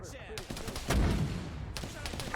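Mortar fire in the military video game Arma 3: a heavy low thump with a long rumbling tail, loud and close, amid faint background gunfire.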